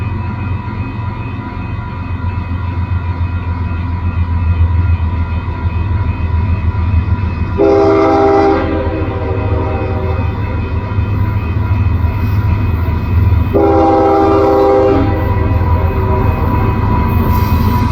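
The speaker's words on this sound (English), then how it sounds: "the train came" A train rumbles steadily nearby in Dunsmuir, California, with two loud horn blasts sounding a few seconds apart over the continuous rolling noise.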